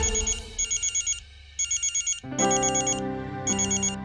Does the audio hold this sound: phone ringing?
yes